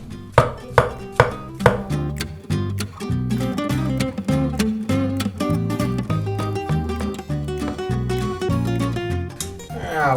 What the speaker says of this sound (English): I'll also just slice those mushrooms kind of 1/4 inch thick or so